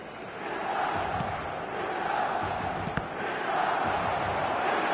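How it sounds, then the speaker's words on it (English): Stadium crowd in an eFootball 2026 match, a loud continuous roar of many voices that swells as a near-miss attack unfolds, with a brief sharp spike in the middle. "The crowd reaction tells you just how close that was"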